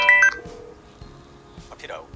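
An incoming call placed by Alexa to a phone produces a short burst of electronic dial-like tones at the start, which then fall away while a voice speaks over the quiet.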